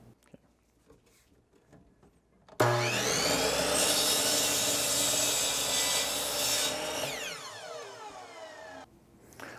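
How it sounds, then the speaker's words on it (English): A miter saw cuts wooden board pieces for a classic blue bird house, a loud sustained whine and grinding that starts abruptly, holds for about six seconds, then winds down and fades. "We'll take the board over to the miter saw and we'll start cutting our pieces out."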